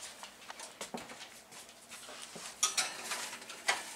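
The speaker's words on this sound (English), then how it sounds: "I'm going to stick them in the oven, middle rack." A tray of low-carb cheese puffs slides onto an oven's middle rack: several sharp, quiet metallic clinks and clatters, close by, with brief rattles between them.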